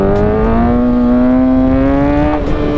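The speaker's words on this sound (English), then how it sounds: "Watch the RPM cluster and watch where my revs go to clutch up." A motorcycle engine held at steady high revs, around 4,000 RPM, as the rider prepares to clutch up into a wheelie; a loud, continuous close-up drone that climbs slightly in pitch, with no talking.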